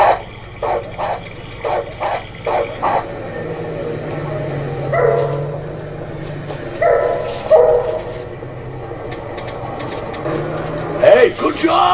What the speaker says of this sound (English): there's a crazy dog guarding the entrance to the courtyard